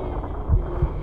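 A heartbeat in Little Nightmares thumps twice, low and muffled, over a dull droning hum.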